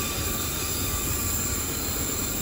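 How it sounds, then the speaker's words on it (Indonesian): The Pangrango passenger train passes Batu Tulis station near Bogor, Indonesia, filling the clip with a loud, steady rumble and high metallic wheel squeal, constant throughout with no talking. "kereta api Pangrango sudah melintas di sisi utara dari stasiun Batu Tulis"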